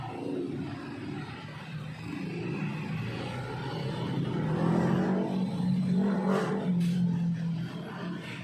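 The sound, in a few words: Yamaha Mio Gravis 125 scooter engine revving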